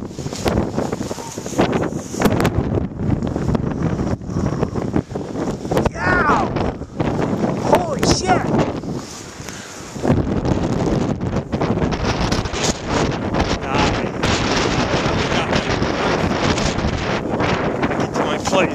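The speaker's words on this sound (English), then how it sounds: "the wind is kicking up here" Strong wind during a 2011 Chicago blizzard, roaring and buffeting the microphone in loud gusts that ease briefly before surging again, with people talking and shouting over it.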